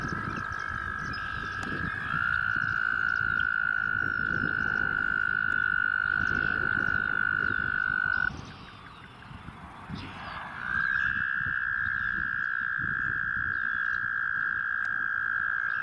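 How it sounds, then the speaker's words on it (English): A chorus of toads trills in long, sustained, overlapping calls, loud and steady, with one dominant high trill that briefly breaks off and resumes, over a bed of fainter croaking. "But I'm not the only one attracted to the chorus of toads."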